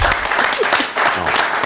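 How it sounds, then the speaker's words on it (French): Studio audience at a French-language television talk show breaks into dense, steady applause right after a sung tribute, the clapping loud and continuous for under two seconds with a voice briefly over it. "On l'applaudit là."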